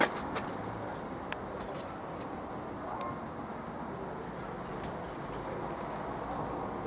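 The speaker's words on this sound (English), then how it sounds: "I can actually run a train around the layout." A model train runs around a layout, making a continuous low, steady rumble and rolling hiss at moderate distance, with a few faint clicks and chirps on top.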